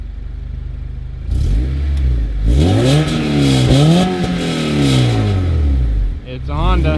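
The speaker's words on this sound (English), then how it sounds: "Do we have an exhaust clip for YouTube?" Acura RSX Type S, a Honda-built car, revving its exhaust close by: repeated rising and falling engine sweeps after a quieter idle, loud and continuous, with a sharp climb near the end.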